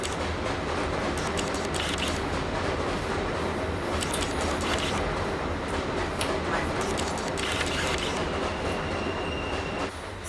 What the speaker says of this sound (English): trains gonna be passing and shit, being mad, rude